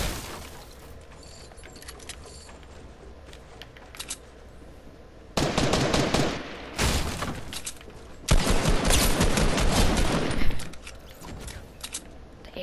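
Assault rifle fire in Fortnite, heard as dense bursts of rapid gunshots in several loud volleys after a quieter stretch of game background.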